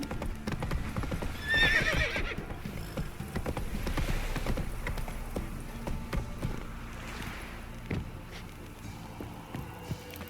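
A horse gallops in The Witcher 3: Wild Hunt, its steady clip-clop hoofbeats loud and close, with a whinny early on and faint environmental noise underneath.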